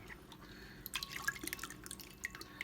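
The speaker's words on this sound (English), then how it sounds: "I put them in here, in this bowl of water, and I just work the seeds" Chile poblano seeds are rinsed by hand in a bowl of water, giving soft close-up sloshing, small drips and splashes in an irregular rhythm that grows busier after the first second.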